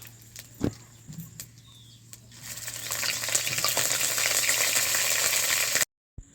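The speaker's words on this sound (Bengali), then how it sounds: "ফোড়নে দেব শুকনো লঙ্কা, 5 ফোঁটন আর আদা বাটা" Dried red chillies, five-spice and ginger paste hitting hot mustard oil in a kadai, a few light clinks first, then a loud close sizzle swelling and holding steady before cutting off abruptly.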